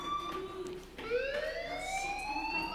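A fire alarm wails in the video game Life is Strange as a rising, sustained siren tone that sweeps upward after a brief dip. It sounds moderately near, with faint background ambience and no talk.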